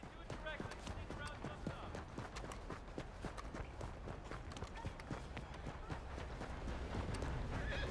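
Rapid, rhythmic hoofbeats of a galloping horse in Red Dead Redemption 2 pound close by and steadily, with game sound effects and a snort.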